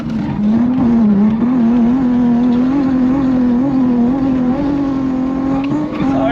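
Drift car driven by James Deane, its engine loud and close with a steady droning roar that wavers slightly in pitch as the throttle is held through a slide.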